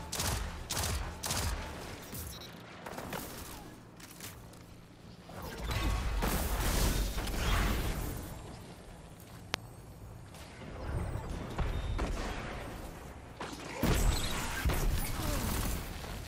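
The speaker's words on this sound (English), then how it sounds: "Nice, shotgun kill." Shotgun fire and a kill in the video game Destiny 2 amid a chaotic firefight, with repeated heavy blasts, clattering mechanical weapon sounds and crashes in dense bursts, and brief speech in the mix.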